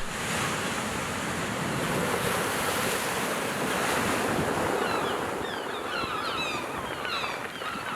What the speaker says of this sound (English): Waking up to the ocean was a beautiful and peaceful start.